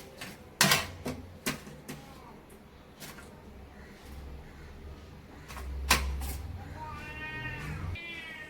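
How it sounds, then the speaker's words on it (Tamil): Several cats crowd around a home kitchen, with loud clustered meows near the end and clatter and thumps earlier. "இங்க பூனைங்க நிறைய இருக்கிறாங்க. ஒரே காத்தின்னு சவுண்ட் போட்டு இருக்கிறாங்க பாருங்க."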